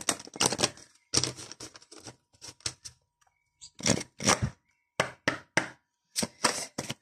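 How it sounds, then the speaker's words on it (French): Oracle cards are shuffled for a tarot-style reading, making quick bursts of rapid papery riffling and flapping separated by short pauses. "On prend l'oracle de l'âme intuitive et on va aller faire le tirage."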